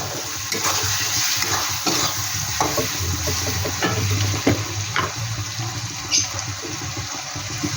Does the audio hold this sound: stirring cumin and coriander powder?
yes